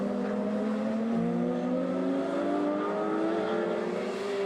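Racing cars lapping a circuit, among them a yellow BMW and a Fiat Turbo, their engines a loud continuous drone with rising and falling pitch as several cars pass.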